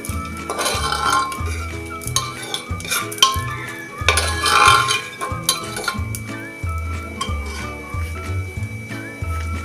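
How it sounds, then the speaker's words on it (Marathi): Sliced dry dates (kharik) stirred in a pan for a sweet mango preserve, a spoon scraping and clinking against the metal in irregular strokes under a steady low hum, close and fairly loud. "खारीक आता ही थोडीशी परतून घेऊया"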